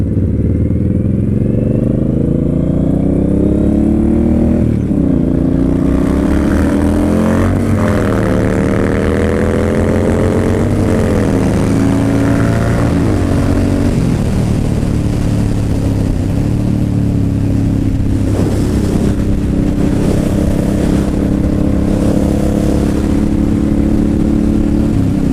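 A Suzuki Boulevard M109R cruiser motorcycle accelerating hard along a road, its loud close engine climbing through several gear shifts with rising and falling pitch, steady rumble throughout with no talking.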